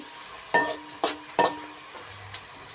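Onions sizzling and being stirred in a pan while fish curry cooks, with three sharp stirring scrapes and a fainter fourth, separated by short pauses over a low frying hiss.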